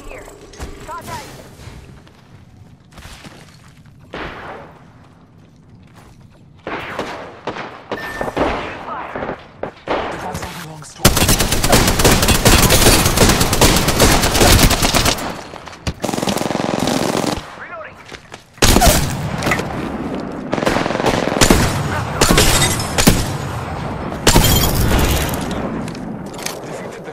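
Heavy automatic gunfire in the battle royale shooter Apex Legends, long loud bursts and rattling volleys that start sparse and build into dense, near, sustained fire with brief pauses.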